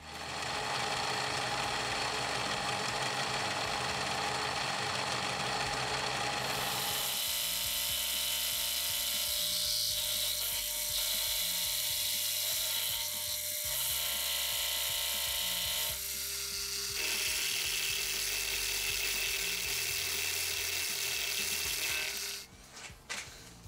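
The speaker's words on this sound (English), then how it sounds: "switch over to the ball nose end mill to make it a little swoopy" A ball nose end mill cuts metal while machining a knurling tool, a continuous whirring machine drone with shifting tones as the passes change, steady and fairly close with no talk.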